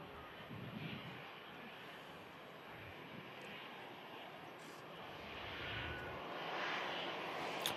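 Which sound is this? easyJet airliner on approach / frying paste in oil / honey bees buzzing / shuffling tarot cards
easyJet airliner on approach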